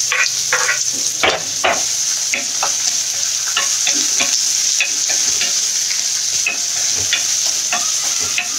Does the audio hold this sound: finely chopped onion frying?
yes